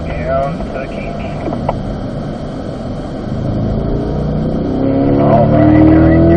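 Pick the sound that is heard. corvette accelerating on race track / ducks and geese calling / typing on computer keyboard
corvette accelerating on race track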